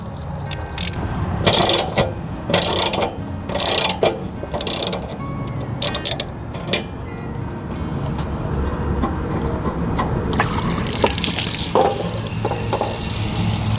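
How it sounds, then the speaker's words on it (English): A ratchet removing a horse trailer water heater's anode rod clicks in quick bursts of rapid ticking, pausing between strokes, then gives way to a steady rushing, gritty noise. "Once the pressure is released, then we can take out the anode rod."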